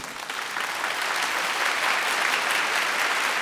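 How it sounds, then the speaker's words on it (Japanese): An audience in a church gathering applauds to welcome Irvin Salzman, a Messianic congregation leader from New Jersey, with dense, sustained clapping that swells slightly and holds at a steady, full level. "先生はちょっと今拍手しましょうか。"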